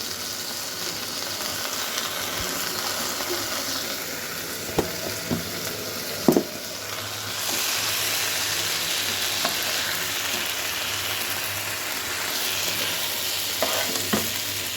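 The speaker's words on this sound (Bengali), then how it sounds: "এটাকে চালটাকে একটু ভালোভাবে ভাজা ভাজা করি" Rice with ginger and garlic paste sizzles steadily in a hot pan for khichuri, with occasional scraping and knocks of a spoon as it is stirred.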